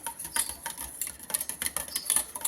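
A spoon clicks and scrapes against a bowl as yogurt is stirred together with ground spices, coriander and cumin-coriander powder, a brisk irregular run of light taps close up with no talking.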